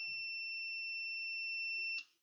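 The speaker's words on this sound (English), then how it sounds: "when we press the button, the light comes on and the buzzer sounds" A steady two-tone electronic buzzer wired to a Raspberry Pi, triggered by a push button, sounds continuously for about two seconds, then cuts off abruptly.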